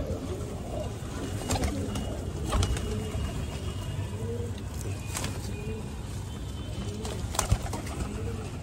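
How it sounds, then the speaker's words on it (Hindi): Pigeons coo in a loft, with repeated soft, low, rolling calls at a moderate distance over steady background noise, with no talk. "कासनी डब्बू पिलगा कबूतर है भाई, ये देख लो"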